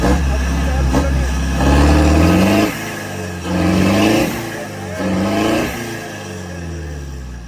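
A Mahindra Thar stuck off-road revs its engine in three or four loud, rising surges with pauses between, close by, while people talk over it.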